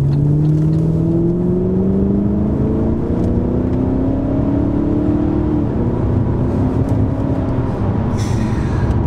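A Vauxhall VXR8 V8 pulls hard, its engine note climbing steadily in a loud, continuous rev that holds strong throughout.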